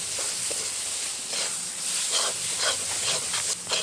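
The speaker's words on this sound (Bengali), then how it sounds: "এখন এর মধ্যে দিয়ে দেবো মোচা এবং ডাল বাটাটা। এবার এটা দিয়ে খুব ভালোভাবে মশলার সাথে নেড়ে নেব।" Banana flower and ground lentil paste being stirred with spices in a hot kadai: a steady sizzling hiss with recurring scraping swells from the spoon, close and continuous, with no talking.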